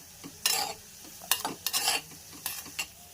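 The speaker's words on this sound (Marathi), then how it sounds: "परत एकदा मिक्स करूया" Cluster beans with peanut powder stirred in a pan, several bursts of scraping spatula strokes against metal over a soft sizzle, close up, in short uneven pulses with no voices.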